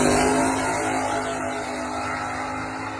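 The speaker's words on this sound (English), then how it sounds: "I'll go ahead and throw up a clip of Brandon's Malibu going down the track." A Malibu drag car running down the track: a loud, sustained engine roar that eases slightly as it pulls away, with no talk.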